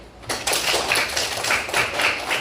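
An audience applauding at a teacher training session: a few seconds of steady, fairly loud clapping from a group of many hands, with no talking.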